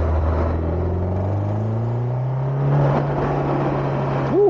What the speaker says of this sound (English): it's so weird hearing that turbo noise